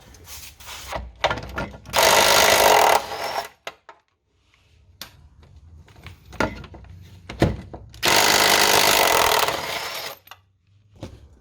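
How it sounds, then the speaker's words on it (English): Two long, loud bursts of a power tool undoing bolts on the blade arms during a Ford BF XR6 Turbo differential swap, each lasting about two seconds, separated by quieter clunks and handling noises. "So next two bolts I'm going to undo"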